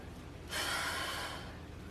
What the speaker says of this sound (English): notice how she's keeping a good cadence with her breathing